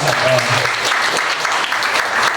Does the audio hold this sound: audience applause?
yes